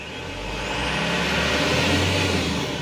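A Mitsubishi Canter Euro4 truck engine revs gradually, a steady loud drone that rises slowly in pitch and strength over a few seconds with no talk.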